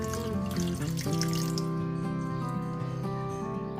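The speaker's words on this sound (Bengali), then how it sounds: "পরেতে দিয়ে দিচ্ছি পরিমাণ মতো জল" Water runs steadily into a pan of egg tadka, a continuous close-up stream with a faint ringing tone and no talking.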